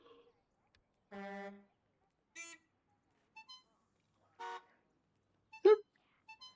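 King's Horn vehicle horn in the video game Destiny 2 sounds off in several short separate blasts, one longer brassy toot followed by quicker bursts with quiet gaps between them.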